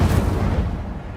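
An Incendio fire spell cast in the video game Hogwarts Legacy: a loud, dense whooshing burst of flame with a deep rumbling body that sustains for about a second without voices.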